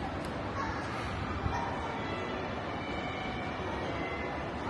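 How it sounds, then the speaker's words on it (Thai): A steady rushing rumble of the Shanghai maglev high-speed train in motion at about 300 km/h, continuous and fairly quiet, heard from inside the carriage. "นี่เป็นรถไฟที่พวกขี่มาเนาะ"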